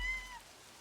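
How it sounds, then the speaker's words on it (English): A cat in the video game Livber: Smoke & Mirrors gives a single short, faint meow that fades quickly into quiet ambience. "Those noises, cat noises are the best."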